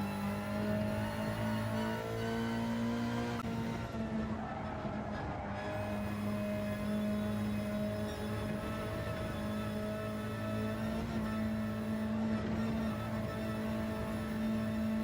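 A race car in Gran Turismo 7 drives a time-trial lap, braking into a corner and throttling back out. The engine note holds a steady, loud drone throughout, shifting pitch as it accelerates.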